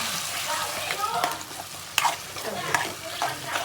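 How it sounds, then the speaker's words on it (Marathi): Onion and coconut paste hitting a hot pan for a paneer curry, crackling and sizzling loudly with scraping stirs and a few sharp spatters. "आता याच्यामध्ये मी टाकते वाटण जो मी काढला आहे कांदा खोबऱ्याचा"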